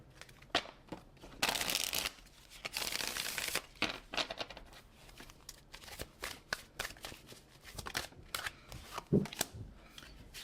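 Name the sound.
shuffling tarot cards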